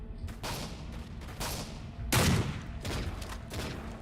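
Hip-fire gunfire in Call of Duty: Modern Warfare II multiplayer, a rapid string of muffled shots and bursts at moderate level over busy game ambience.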